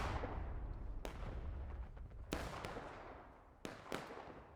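Sharp gunshot cracks in the multiplayer game War of Rights, with three or four isolated reports over a low rumble of battle, fairly faint and distant.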